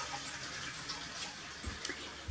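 A toilet cistern running constantly, a faint, steady hiss of trickling water with a few soft knocks and drips.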